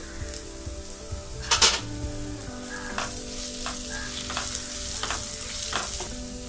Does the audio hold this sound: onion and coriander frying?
yes